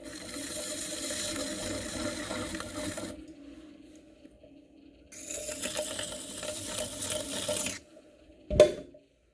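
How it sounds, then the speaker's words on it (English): A tool trims the skirt of a clay bowl turning on a potter's wheel, making a steady close rasping scrape over a low hum. The scrape stops for a couple of seconds, resumes, then ends with a brief knock. "this part down here, the skirt, I'm going to go ahead and trim a smidge of it off."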